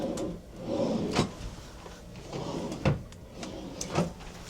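Deep drawers in a cruise ship balcony cabin slide open and shut several times, each with a soft rumble ending in a light thump, close by and without talk.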